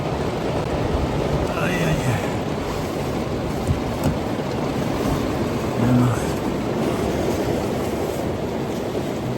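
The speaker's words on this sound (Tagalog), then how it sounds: "Malakas ng ulan." Heavy rain pours steadily over a campsite, a dense continuous hiss with gusty wind, while voices speak briefly beneath it.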